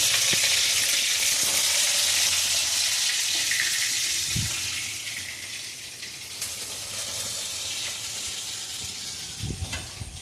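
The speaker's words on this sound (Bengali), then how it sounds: "এই যে মাছগুলো আমি এখন ভাজা করছি এদিকে" Fish frying in a pan makes a dense, steady sizzle that eases slightly toward the end, broken by a few soft clinks, with no talking.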